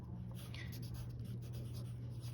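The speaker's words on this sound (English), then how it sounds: "So I'm going to sketch it out on here." Soft pencil scratching as letters of a name are sketched onto a sheet of paper for a technical-lettering name tag, faint and steady over a low room hum.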